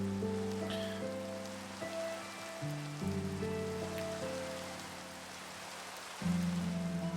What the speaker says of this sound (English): Oh, and it's starting to rain,